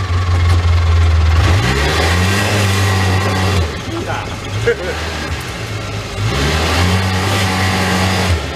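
A Polaris Ranger 800XP with known issues runs close by, its engine rumbling steadily and revving up twice in rising sweeps before settling back, with someone talking over it.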